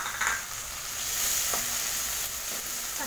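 Onions and tomatoes sautéing in oil for pumpkin sambar, a steady close sizzle with occasional scraping of a spoon stirring through the pan.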